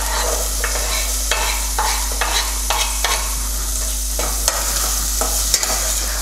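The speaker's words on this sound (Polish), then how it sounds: "Ona trochę ochłodzi oliwę i masło i podsmażam, aż się zeszkli." Chopped onion sizzles steadily in olive oil and butter over moderate heat while it is cooking for a thick corn soup, with repeated scraping stirs of a utensil punctuating the constant frying hiss.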